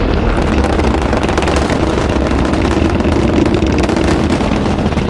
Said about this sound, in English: Engines throttling down and holding well